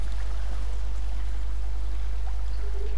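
Water flows steadily in a SOMA game scene, a constant broad rushing wash with no breaks or voices.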